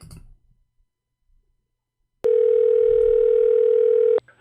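A telephone tone is played back from a recording: one steady electronic beep of about two seconds, loud and clear, after near silence.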